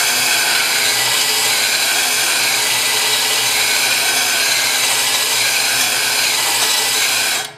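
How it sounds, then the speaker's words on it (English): A drill-powered blade sharpening attachment grinds a lawnmower blade clamped in a vise, a loud continuous whirring, rasping grind held steady for several seconds before cutting off abruptly. "place the blade sharpening attachment on the edge and turn the drill on"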